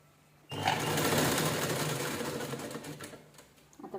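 A sewing machine stitches the neckline of a velvet blouse, starting abruptly and whirring steadily up close before easing off near the end.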